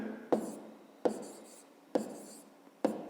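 A pen writing a maths solution, with four evenly spaced bursts of close scratching and tapping on paper and quiet pauses between them, with no talk.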